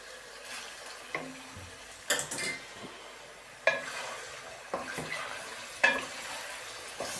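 Half a kilo of chicken frying in oil in a pot for biryani, a faint sizzle under repeated loud clanks and scrapes of a spoon stirring against the metal, close and alone.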